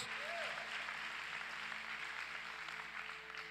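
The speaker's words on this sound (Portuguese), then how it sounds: "dá um forte aplauso ao Senhor em nome de Jesus" A church congregation applauds in a steady wash of clapping during a Portuguese-language sermon, fairly faint and even, with a brief voice at the start.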